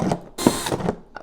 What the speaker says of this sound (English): Drill holes at the bottom and holes at the top.